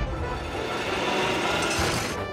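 Big quarry machines in a Thomas & Friends cartoon make a steady, loud mechanical clatter and grinding rumble throughout, with no talk.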